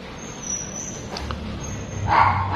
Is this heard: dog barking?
yes